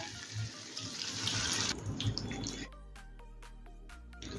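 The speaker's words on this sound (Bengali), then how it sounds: "এখন দেবো কাবুলি ছোলা সেদ্ধ করে রাখা জলটা।" Leftover water from boiled chickpeas splashes into a pan on a low gas flame, a close rushing pour for a few seconds that then stops, followed by faint tonal background sound.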